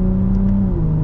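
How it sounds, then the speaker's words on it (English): BMW M340i running with its exhaust valves open, giving a brief, close, loud low drone as it burbles on a downshift, with no voices. "Oh, it burbles the downshifts."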